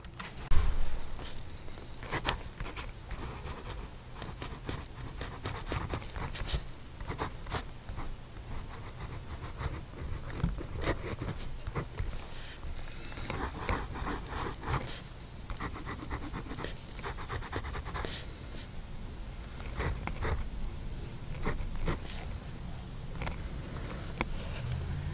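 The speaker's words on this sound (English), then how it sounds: "So let's put this nib on paper and see what that's like." A fountain pen nib scratches across paper in a steady stream of short strokes, close and fairly loud, with no talking, from a Kanwrite Heritage piston-fill fountain pen.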